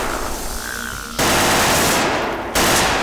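Rapid handgun fire in the Unreal Infiltration co-op shooter comes as two loud, close bursts of sharp cracks after a quieter opening stretch, with no talking.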